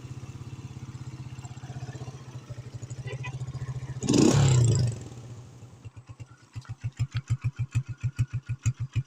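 A Motoposh Pinoy 125 motorcycle engine idles with a steady low putter, briefly revs louder in the middle, then settles into a pulsing, uneven chug.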